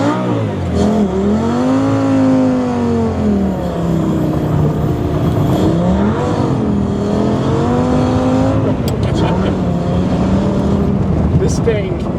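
A Lamborghini with traction control switched off accelerates hard through snow in Summit County, Utah, its engine rising and falling in pitch through repeated revving surges, loud and close, with speech over it.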